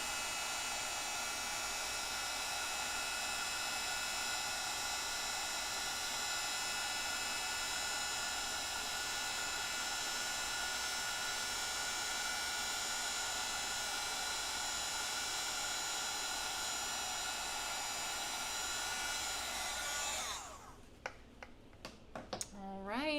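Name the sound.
heat embossing gun blowing hot air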